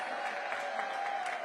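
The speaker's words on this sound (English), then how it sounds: "Give DPR a big round of applause." A crowd at a seniors' festival applauds the city parks and recreation department, a brief, fairly faint and steady wash of clapping with a faint tone running beneath.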